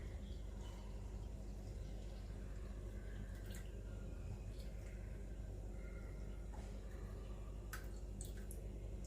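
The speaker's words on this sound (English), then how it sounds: "add 300 grams more of coconut water." Tender coconut water pours into a pot, about 300 grams added, making a steady wash of liquid noise with occasional drips and splashes, continuous and moderately close, with no voices over it.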